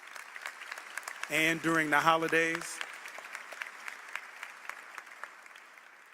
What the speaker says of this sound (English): If you could all give them a round of applause for organizing this.